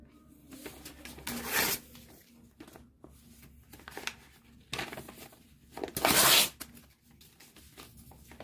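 Sheets of paperwork torn up by hand indoors, heard as two loud ripping bursts several seconds apart with quieter crinkling and rustling between them, no talk.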